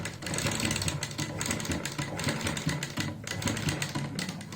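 A sewing machine slowly stitches around the curved neckline of a kurti, a steady close mechanical whirr with rapid needle ticks running without pause.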